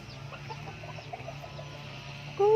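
Chickens at a backyard coop cluck softly in the background, low and intermittent, ending in a louder call right at the end.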